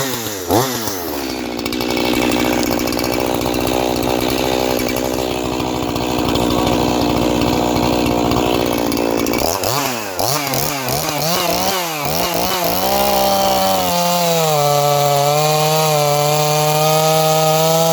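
A chainsaw at full throttle cuts steadily through wood. The engine drone stays loud and continuous, shifts in pitch as the bar works through the log, and settles into a higher, steadier whine near the end.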